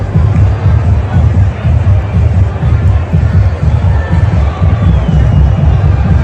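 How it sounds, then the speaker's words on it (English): Large outdoor crowd at a Trump rally in Butler, a loud continuous roar of babble and murmuring voices with faint cheering, dense and unbroken throughout. "here is the crowd size at the Butler rally for Trump"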